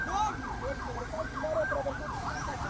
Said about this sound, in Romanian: E a vine toată mașina de pompieri.